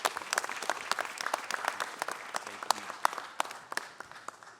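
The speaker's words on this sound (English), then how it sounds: "Please give a round of applause to the founder of Pure Hearts or us" A round of applause from an audience at a city council meeting, with distinct individual hand claps forming an uneven, moderately sized clatter, fairly close and sustained for several seconds.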